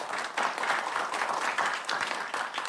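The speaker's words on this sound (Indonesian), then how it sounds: "Boleh berikan tepuk tangan kepada para pasangan calon." Audience applause at a regency head (bupati) candidates' debate in Serang, a dense, steady wash of many hands clapping close and loud throughout, with no talking over it.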